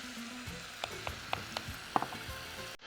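Chili powder sautéing in a home-cooking pan, a faint steady sizzle with a few soft scrapes and light taps of a spoon, quiet and close, no voices.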